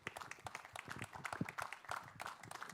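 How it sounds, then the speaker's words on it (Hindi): A press conference audience applauds the series director with a dense spread of many hands clapping that stays steady for a few seconds, heard from within the crowd. "एक बार जोरदार तालियां for Mr. Omkar, who is the director of the series."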